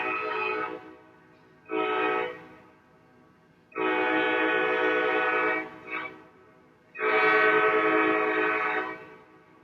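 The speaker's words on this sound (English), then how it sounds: "Train is coming." A train sounds its horn in four long, loud blasts with short gaps between them, a harmonic wail that rises above a faint rumble as it passes.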